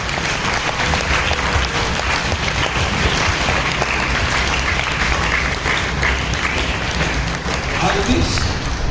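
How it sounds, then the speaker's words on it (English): Sustained applause from a school assembly audience honouring the institution's mentor and builder, a dense, steady roar of clapping lasting throughout at fairly loud, even level with no break. "Huge round of applause by everyone."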